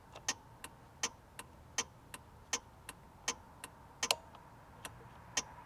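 Turn signals on a Kymco Downtown 350i scooter tick in a steady, even rhythm, sharp close clicks roughly every third of a second over a low idle background, with no talk.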